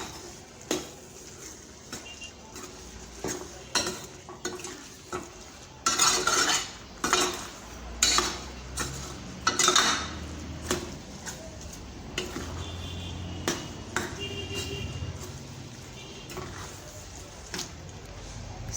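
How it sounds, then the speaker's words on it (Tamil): Ground coconut stirred into snake gourd kootu in a pan, with a utensil scraping and clinking against the metal in irregular bursts, close and moderately loud, then softer scattered taps. "இப்போ நம்ம அரைச்சி வச்ச தேங்காயும் இது கூட சேர்த்துட்டு நல்லா கலந்து விட்டுறலாம்"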